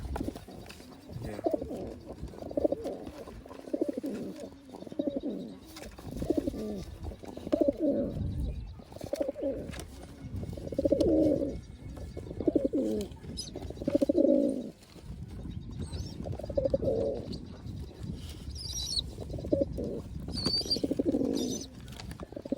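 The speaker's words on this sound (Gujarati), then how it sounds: "આવી રીતના એક કબૂતર" Pigeons coo repeatedly in low, throaty bursts at a pet shop, close by and fairly steady, with occasional faint chirps and a brief flutter of wings.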